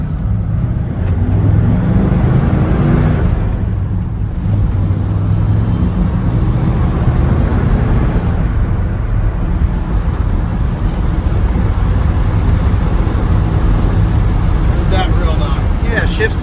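A 1969 Ford F100 Ranger pickup with a 360 V8 engine accelerates, its low engine rumble holding steady and loud under continuous talk inside the cab.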